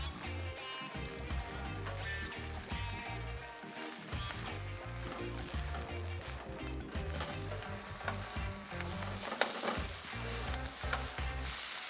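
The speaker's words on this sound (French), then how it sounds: "on ajoute les verdures, le mélange d'épinards, de bêta-carbe et de kale." Spinach, chard and kale greens sizzle loudly in an oiled pan with ginger, a continuous close hiss and crackle with occasional stirring rustles throughout.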